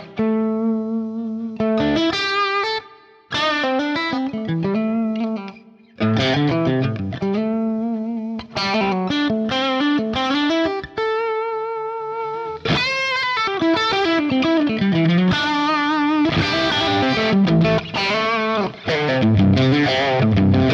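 An electric guitar plays through the Liverpool Bright amp model on a Fractal Axe-Fx with reverb, sounding loud and close in strummed chords and ringing riffs with short breaks between phrases, alone without talk.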